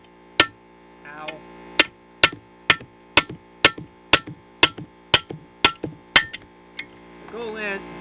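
A hammer drives big rivets during ball joint replacement on a 2003 Ford Focus, with about a dozen loud, sharp metallic strikes at a steady, even pace and brief squeaky creaks between some blows.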